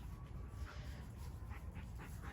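Dogo Argentino dogs play close by, with a steady rumble of panting and scuffling, and a few soft whimpers and yips coming through.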